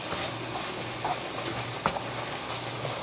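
Pasta sauce being stirred in a pan on the stove, a steady bubbling sizzle with soft scraping stirs and a couple of brief clinks, no talking.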